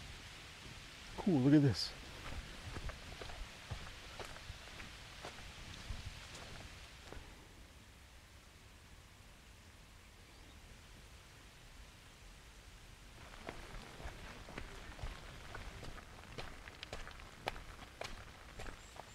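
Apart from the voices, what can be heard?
rain falling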